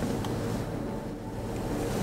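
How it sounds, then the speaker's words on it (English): Wind blows steadily in a snowy outdoor setting, a continuous broadband rush that stays loud and even for the whole stretch with no voices. "Because it's windy and blowing snow."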